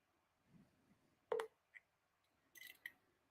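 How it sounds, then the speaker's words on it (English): Telephone dialing a call: a few separate short electronic keypad tones, first a single beep, then a quick cluster of dial tones near the end, over a quiet background. "So let me give her a call, because we can do this over the phone."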